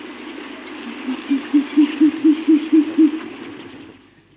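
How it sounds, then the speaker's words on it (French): A short-eared owl gives a rhythmic series of about nine low, evenly spaced hoots that swell and then fade, clear and fairly close over a soft background hiss. "Voilà pour le hibou des marais."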